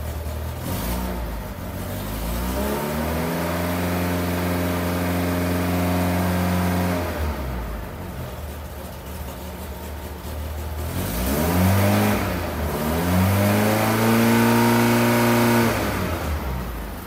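A 1982 Fiat 124 Spider engine idles, then revs up and holds a high, steady pitch before dropping back. A second burst of throttle follows, rising and falling, loud and close.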